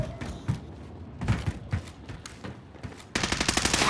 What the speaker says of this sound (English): Someone's still shooting me from up on the roof.